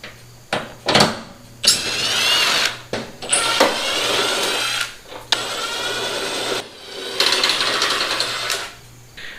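A power driver fitted with a T27 Torx bit backs bolts out of a fender on a 1997–2001 Jeep Cherokee XJ. Several loud, close bursts of high-pitched whirring each last a second or two and are broken by short pauses.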